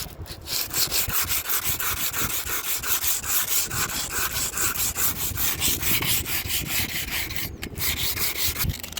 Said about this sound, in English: then I'm going to use sandpaper on this plexiglass